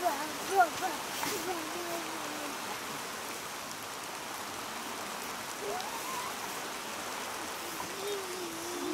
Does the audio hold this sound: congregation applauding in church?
no